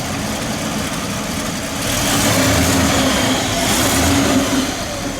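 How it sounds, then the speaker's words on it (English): Steady low rumble of a 1956 Cadillac Custom View Master station wagon engine idling outdoors, swelling slightly in the middle as if given a light rev, then easing back, close and continuous with no talk. "Let me listen to it idle for just a second, Ken."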